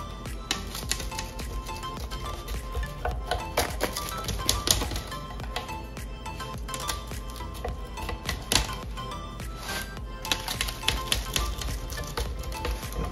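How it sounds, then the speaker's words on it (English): An anchovy pizza is cut into slices, with rapid crisp clicking and crunching cuts repeating steadily at close range. "Now it's time to cut the pizza."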